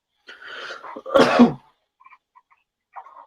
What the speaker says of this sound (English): Just clear my throat.